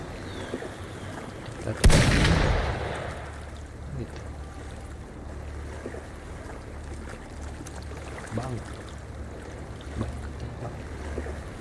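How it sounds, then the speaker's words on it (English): A sudden loud burst of gunfire in the video game Wuthering Waves, a single sharp blast that rings out and decays over about a second, then low ambient game sound with faint rumbles. "Gunfire!"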